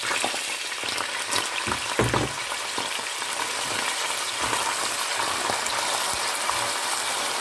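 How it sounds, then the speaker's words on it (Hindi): Onions sizzle in about four tablespoons of hot oil for Afghani pulao, giving a steady crackling hiss with scattered pops and a few scraping stir sounds. "इसमें मैं ये प्याज डाल रही हूँ"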